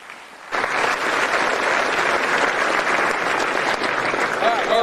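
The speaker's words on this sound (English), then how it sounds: "please give these businesses a round of applause." Audience applause at a football award ceremony, a sustained wash of clapping that starts abruptly after a brief quiet moment and stays loud and steady to the end, rising slightly near the close.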